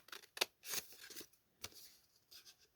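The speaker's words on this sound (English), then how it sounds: "I'm just going to use a pair of scissors, or you can use your trimmer, to cut the mark" Scissors snip through card stock in a few quick, quiet cuts close by, with short pauses between the strokes while a faceted diamond easel card is being made.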